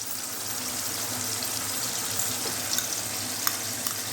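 Steady, close sizzling and crackling of chicken frying in hot oil with garlic ginger paste, with a few small clinks and pops near the end, no voices.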